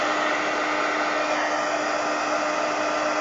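Hair dryer blowing on a mixed media artwork, a steady loud whirring hiss with a constant motor hum, uninterrupted for the whole span with no talk.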